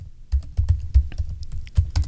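Fingers tapping out CSS code on a computer keyboard, a quick irregular run of close, crisp key clicks with small pauses, no voices.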